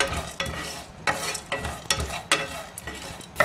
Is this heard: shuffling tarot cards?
no